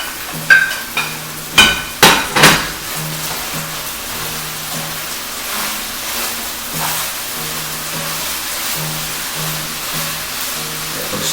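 Onions and yellow pepper are dropped back into a hot pan of beef tips, giving a few sharp thuds and clatters, then a steady soft sizzle for the rest of the clip.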